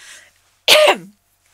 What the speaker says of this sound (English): had a coughing fit